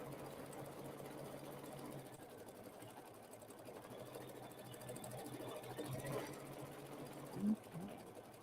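Sewing machine stitching a quilting background design, a steady, faint mechanical hum with a soft rapid rhythm running throughout.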